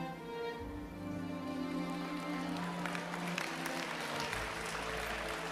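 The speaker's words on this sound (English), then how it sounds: "Come on, clap your hands louder than that." Steady audience applause during a motivational sermon, dense and even clapping with sustained musical tones beneath, fairly quiet overall and continuous to the end.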